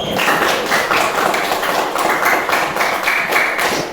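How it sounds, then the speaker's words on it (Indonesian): A classroom of students claps together in a brisk, steady rhythm, loud and close, with a dense wash of hands filling the room for several seconds. "tepuk tangan dulu dengan pertanyaan dan menjawab"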